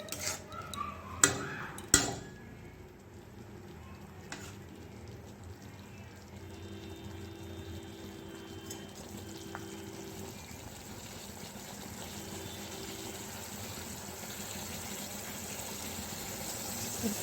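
Water pours into a cooking pan on a low gas flame for an okra curry, a faint steady trickle running for several seconds after a couple of sharp clatters of utensils.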